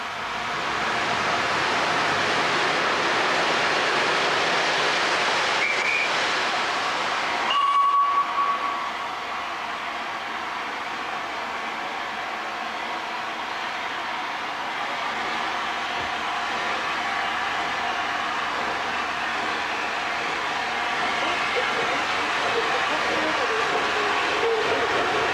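Class A2 Pacific steam locomotive Blue Peter, built in Doncaster, hauls a railtour special on the Edinburgh to London run, giving a continuous loud rumble of rolling train noise and a brief whistle-like tone partway through.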